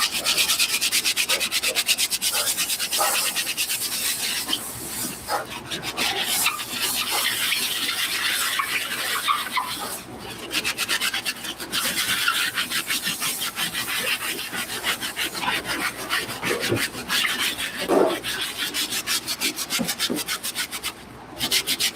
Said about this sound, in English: We're gonna use our stiff bristle brush, dip that in there. Try to get those grooves that we missed.